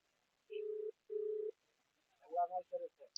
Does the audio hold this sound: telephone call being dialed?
yes